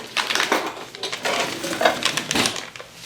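Potatoes and green beans being tossed together, a run of close, loud rustling and scraping bursts with uneven rhythm over about three seconds.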